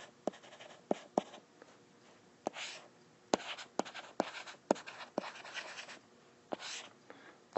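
Pen or marker writing out a physics problem, heard as a series of sharp taps and scratchy strokes at an irregular pace, close and quiet, with no talking.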